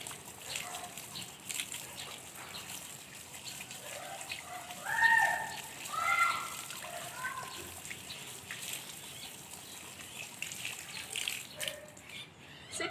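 Running water from a tap splashes and trickles as hands are rinsed during handwashing, a faint, steady flow with a few louder splashes midway.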